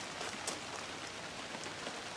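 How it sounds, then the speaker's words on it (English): Steady rain patters outside a makeshift tent set up for working on a truck during a coolant leak and water pump repair, a continuous hiss of drops close by with no voices. "Now I can work in the rain."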